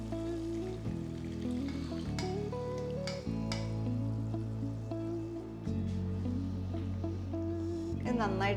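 Masala paste sautéing in oil for paneer lababdar makes a soft, steady sizzle that stays low under continuous talking, with light stirring.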